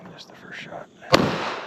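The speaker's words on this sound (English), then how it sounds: "Just the first shot." A single sharp gunshot at an outdoor shooting range cracks loud and close after a stretch of quiet talk, its blast ringing out and decaying over the following half second.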